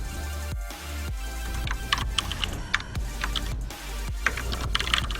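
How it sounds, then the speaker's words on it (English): Keys clatter on a computer keyboard in irregular bursts and clicks, with brief pauses between runs of typing, fairly quiet and close. "Typing."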